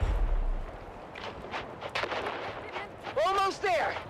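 Grenade blasts in the Dune Awakening video game boom with a heavy low rumble at the start, then scattered bursts of combat noise follow, and voices talk near the end.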